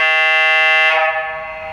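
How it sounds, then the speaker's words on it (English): Air horn on an Athearn HO scale Union Pacific 844 4-8-4 steam locomotive model, a single loud, steady multi-tone blast that cuts off and fades after about a second, alone with no talk. "So yeah, she has an air horn even though she's a steam loco."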